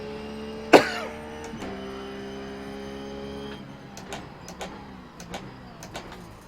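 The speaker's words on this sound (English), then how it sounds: "All because of that cough." A single sharp cough sounds once, close and loud, during an iRacing Blancpain Endurance Series race at Circuit Zolder, over a steady engine drone with faint clicks after it.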